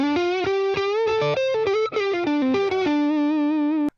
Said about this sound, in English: if I would play something with gain, like a lead sound, I would definitely use a humbucker load guitar